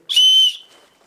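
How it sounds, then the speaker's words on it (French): One short, shrill blast from a small safety whistle, piercing and very close, lasting about half a second before dying away. "un petit sifflet là. En cas de danger."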